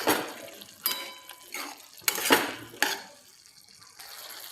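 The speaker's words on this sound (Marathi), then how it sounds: "आता याला आपण छान असं मिक्स करून घेणार आहोत." Moong lentils and ridge gourd stirred in a metal pot, a run of distinct clanks and scrapes of a spoon against the pot, several sharp hits spaced irregularly between quieter rustling.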